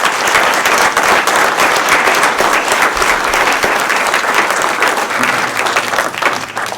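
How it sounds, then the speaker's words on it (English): Audience at a county treasurer candidate forum claps for three candidates in dense, loud applause that holds steady from start to finish. "maybe we have a round of applause for these three candidates"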